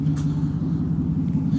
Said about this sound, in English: It's the noisiest car ever.